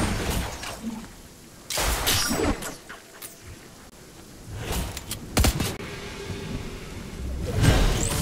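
Storm thunder in the video game Fortnite rumbles in heavy bursts over a constant rain-like hiss, with several loud cracks and rolls spaced across the stretch.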